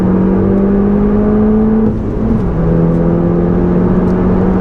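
A Porsche Clubsport S accelerating hard out of the last corner on the Nürburgring GP circuit, its engine droning loud and close as it climbs through the revs, dips briefly at a gear change, then pulls on steadily.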